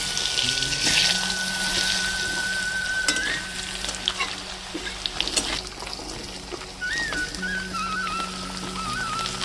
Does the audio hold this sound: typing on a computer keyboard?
no